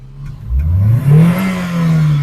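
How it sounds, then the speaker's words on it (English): A car engine revs up in neutral with no gear selected during a practical driving lesson, its steady drone rising in pitch and holding loud and close throughout. "The engine is just running for nothing."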